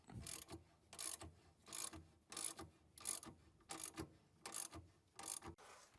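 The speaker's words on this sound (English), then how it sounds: "Now screw in the bolt for lower control arm to the strut" Ratchet cranking a lower control arm bolt into the front strut on a W211 Mercedes E55 AMG/E500 coilover install, seven or eight bursts of rapid clicking at a steady rhythm, close and clear with no talk.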